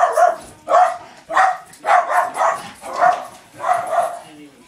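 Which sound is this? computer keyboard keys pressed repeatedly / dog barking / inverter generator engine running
dog barking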